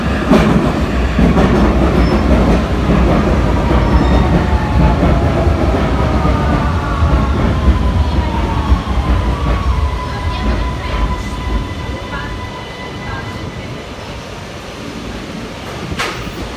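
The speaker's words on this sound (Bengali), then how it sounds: "এখানে 3 মিনিট পর পরই একটা ট্রেন আসে, কোনো সময় 2 মিনিট, কোনো সময় 1 মিনিট।" An underground metro train in Vienna rumbles loudly and continuously up close with rhythmic clickety-clack, and its wheels give rising and falling squeals midway before the noise gradually eases.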